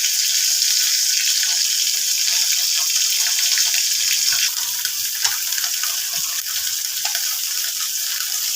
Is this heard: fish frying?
yes